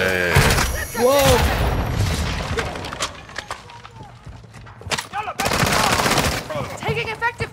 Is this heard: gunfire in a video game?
yes